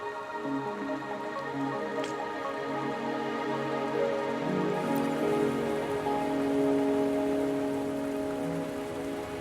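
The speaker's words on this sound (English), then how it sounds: "Are you trapped here by the rain?" Steady rainfall in the Wuthering Waves video game, a soft continuous patter of drops on surfaces under a sustained tonal music drone, even and moderately quiet throughout with no voices.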